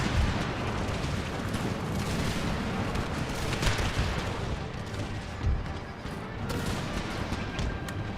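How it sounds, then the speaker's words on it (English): Musketeer volleys in the Empire Total War battle game, Empire 2 mod, merge into a dense, continuous roar of crackling gunfire and rumbling booms that stays loud and steady throughout. "musketeers, add some extra fire"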